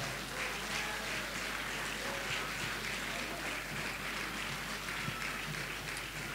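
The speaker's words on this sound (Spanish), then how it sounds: "¿Cuántos le dan palmas al Cristo maravilloso?" A church congregation claps together during an evangelical sermon, a steady dense wash of applause that fills the room, with voices mixed into it throughout.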